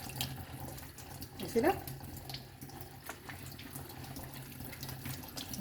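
Kitchen tap water running into a sink while food is washed, a steady splashing stream heard close by with a person speaking briefly over it.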